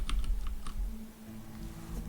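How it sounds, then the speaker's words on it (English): A computer keyboard slides and bumps across a desk, giving a few close, sharp clacks and thuds early on, then a softer shuffle over a steady low electrical hum. "so I'm going to have to move my keyboard over"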